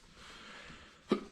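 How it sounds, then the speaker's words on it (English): One short, sharp hiccup from a man near the end, close and distinct, after a stretch of quiet background noise. "Excuse me, I got the hiccups."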